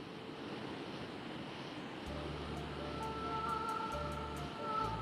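Clear water falls at the Tongnim waterfall, about 5 m high, making a steady, broad rushing roar that stays even throughout, with a low hum joining partway and no talking.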